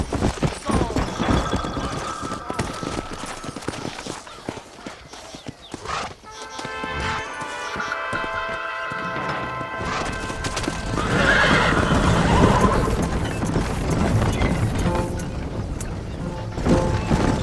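A horse gallops with steady rhythmic clip-clop hoofbeats and whinnies loudly in Red Dead Redemption, close and sustained alongside game music.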